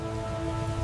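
Rain falls steadily in a windy rural night setting, a dense continuous patter and hiss with no voices.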